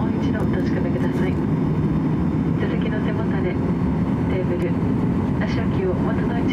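Inside a JTA airliner flying from Miyako to Naha at takeoff, the engines make a loud, steady roar filling the cabin, with a voice speaking over it.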